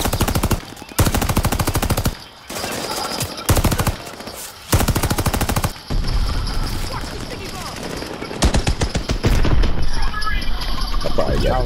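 Nambu machine gun in Call of Duty: Vanguard firing in loud, close bursts of rapid shots separated by brief pauses, with a player talking over parts of the gunfire.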